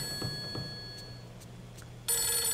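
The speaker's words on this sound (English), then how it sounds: "what is going on with my phone? Somebody really wants to get in contact with me." Telephone ringing inside the Fatal Frame 3 video game, with a bright electronic ring that cuts in loudly near the end after a stretch of quiet, faint ambient tones and soft thuds.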